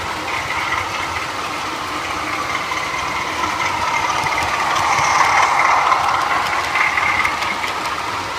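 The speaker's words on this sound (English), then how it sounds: "Just finished up with the 2 DMUs running now." Two model railway DMU trains running with onboard sound, a steady diesel engine drone with mechanical rattling that swells slightly midway, heard continuously and close with no talking.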